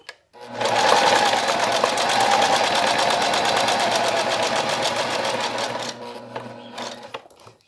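A sewing machine backstitching fabric from a 1.5 cm mark while making a double pencil case: a close, fast and steady mechanical whir that runs for about six seconds, then slows and stops.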